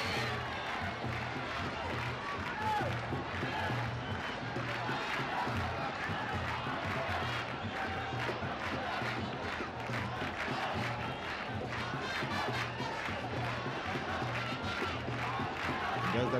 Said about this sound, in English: So the crowd's absolutely elated.